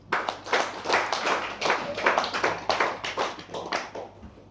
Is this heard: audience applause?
yes